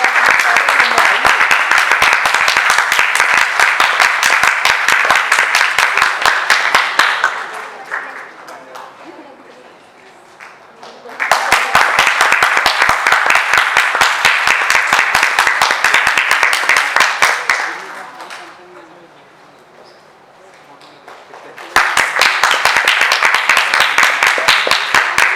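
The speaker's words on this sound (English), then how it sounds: "Let's accompany her way to the stage with a big round of applause." An audience at a founder's day celebration claps for an award winner walking to the stage, loud bursts of applause coming in three waves with quieter lulls between them.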